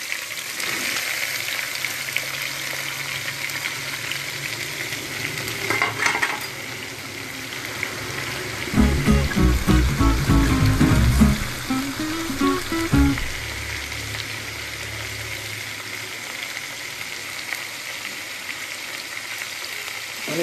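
Okra, tomato and green chillies fry in coconut oil with fenugreek seeds, giving a steady, fairly loud sizzle. A stretch of stirring and clattering runs through the middle.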